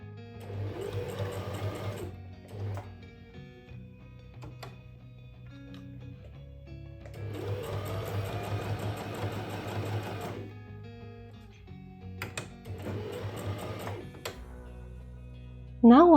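A sewing machine stitches the front bordering of a leather trench coat in three separate runs with quiet pauses between them, close and moderately loud.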